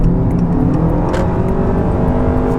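A Honda Accord hybrid cruises steadily while its gasoline engine starts up after electric-mode driving, leaving a loud, continuous engine and road hum with no pauses.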